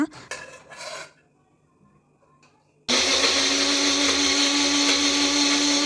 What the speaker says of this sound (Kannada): ತಣಿದ ಬೀಟ್ರೂಟ್ ಹಾಗೂ ಟೊಮ್ಯಾಟೊವನ್ನು ಮಿಕ್ಸರ್ನಲ್ಲಿ ಹಾಕಿ ನುಣ್ಣಗೆ ರುಬ್ಬಿಕೊಳ್ಳಬೇಕು